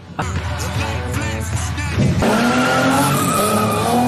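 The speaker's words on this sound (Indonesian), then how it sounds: "Dia memacu mobil itu." A car speeds hard with a loud, steady engine roar, then breaks into a long, shrill tire skid that holds to the end, close and dominating.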